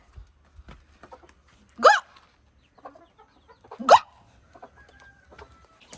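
A hen gives two short, rising squawking clucks a couple of seconds apart, close and clear, with faint scattered scratching and small sounds in between and no talk.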